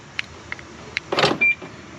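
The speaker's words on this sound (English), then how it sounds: "Alright, I lock the car." A BMW E90 door lock actuator on a car being locked makes a few faint clicks, then a short, louder whirring buzz and a brief clunk, close by with no talking.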